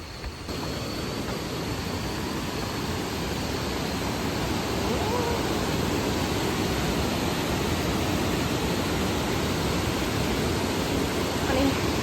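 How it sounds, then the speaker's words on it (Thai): Mae Sa Waterfall in northern Thailand, water crashing onto rocks in a constant, loud, broadband roar that holds steady throughout. "น้ำตกแม่สานะครับ"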